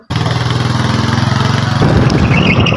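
Close, steady motorcycle engine hum with a fast rhythmic pulse while riding a bike, rising slightly louder and rougher near the end as the rider brakes.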